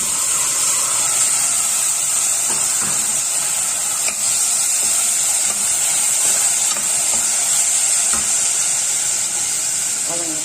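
Rice and lentils sizzling as they sauté with softened tomatoes in a pan for hotel-style ven pongal, a steady close frying hiss with occasional stirring scrapes and no talk.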